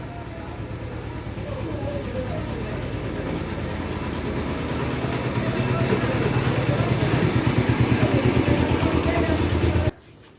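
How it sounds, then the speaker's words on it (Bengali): A puttering motor cart chugs steadily, growing louder as it draws closer, then the noise cuts off abruptly. "ভটভটি গাড়ি আসছে, আবার আওয়াজ"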